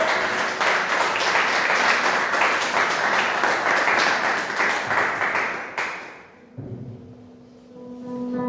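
A church congregation gives a round of applause during a Portuguese-language worship service, with loud sustained clapping for nearly six seconds that then stops abruptly, leaving quieter room sound.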